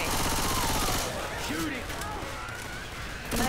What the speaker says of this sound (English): I'm shooting at this point.